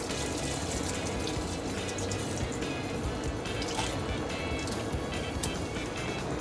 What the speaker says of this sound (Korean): 흐르는 물에 대파를 이렇게 헹궈내도록 하겠습니다.